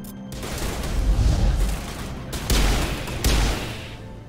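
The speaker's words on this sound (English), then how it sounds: "Someone's still shooting at me." Gunfire in Mass Effect Legendary combat, a dense crackling volley with heavy booming shots, including two sharp loud blasts near the end, with no talking.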